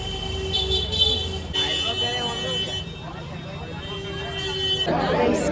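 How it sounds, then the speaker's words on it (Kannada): Several vehicle horns honk repeatedly in busy Varanasi traffic, long toots overlapping amid engine noise and crowd chatter nearby. "ಹಾರ್ನ್ ಮೇಲೆ ಹಾರ್ನ್"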